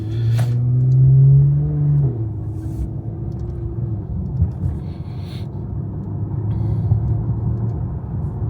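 A 2018 Porsche Panamera 4S with a 2.9-liter biturbo V6 accelerates hard, a loud rising engine roar that peaks early and then settles into a steady, rumbling drone, heard from inside the car.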